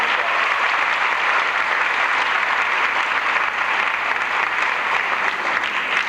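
At a 1984 high school graduation ceremony, a large audience applauds the foreign students with sustained, even clapping that fills the hall at a constant loudness throughout.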